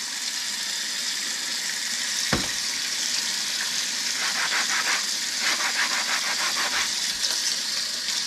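A dirty kitchen utensil rinsed under a running tap, a steady loud rush of water with rattling and clinking as the utensil is handled, close with no voices.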